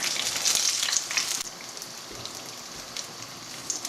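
Spam fritters in beer batter frying in hot oil, a steady loud crackling sizzle with dense bubbling spatter that eases slightly partway through, no talk.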